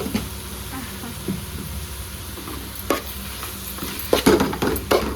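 Ghee rice ingredients sautéing in a pan, with a steady low sizzle and occasional stirring scrapes and clinks that grow sharper toward the end.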